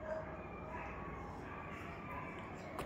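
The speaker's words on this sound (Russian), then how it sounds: "Кто там, собаки гавкают?" Dogs barking and yipping somewhere off at a distance, a busy mix of yaps under a continuous background hum, with some voice activity.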